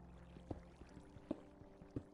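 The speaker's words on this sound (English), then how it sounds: "I hear water." Flowing water in Minecraft sounds as faint, soft splashing gurgles, a few brief pours spaced apart over a quiet background, with no voices.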